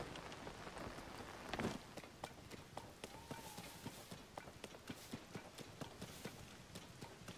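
Rain falls in the Zelda: Tears of the Kingdom video game, a steady soft hiss with scattered pattering drops and quick clip-clop footsteps running through it, fairly faint throughout.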